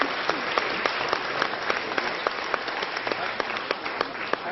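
Debate-hall audience applauding during a no-confidence debate, dense continuous clapping with distinct sharp individual claps standing out, steady throughout.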